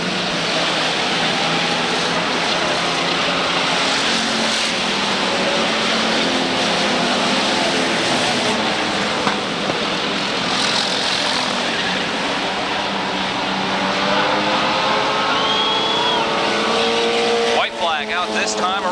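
Stock cars race three wide around the Waterford Speedbowl oval during Father's Day races, a loud continuous roar of engines rising and falling with the pack, with a race announcer talking over the noise throughout.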